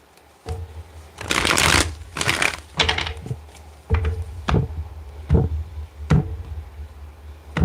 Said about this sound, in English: Let's get one more good shuffle here.